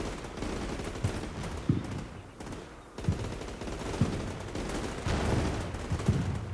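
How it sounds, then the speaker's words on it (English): Incoming grenade launcher or mortar fire in the combat game Combat Mission: Black Sea lands as scattered, distant thumps and crackling bursts over a steady rumble of battlefield noise. "It's either a grenade launcher or our mortar fire coming in"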